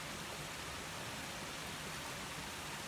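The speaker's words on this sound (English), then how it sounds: "Tuning in with this little waterfall behind me." A small waterfall flows steadily at a dead-end road by the open ocean on Bowen Island, a constant broadband rush of falling water, close and even throughout with no voices.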